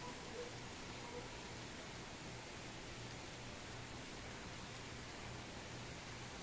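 Rain falls steadily on a sunny day, a dense, even hiss with no breaks, faint and uniform throughout.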